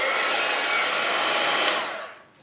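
A hair dryer blows steadily at close range to dry watercolor paint on paper, a loud continuous whoosh that fades out near the end.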